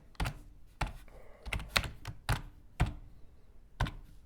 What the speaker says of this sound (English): You come in here and you just type what you want to type.